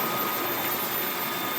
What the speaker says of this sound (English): Thankfully, I have my wet mop vacuum.